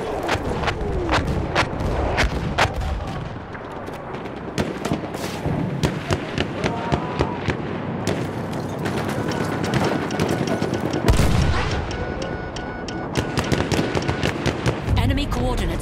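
Artillery strikes in Battlefield V land as a dense barrage of sharp, loud cracks and booms, with bursts packed in clusters and scattered gunfire under them.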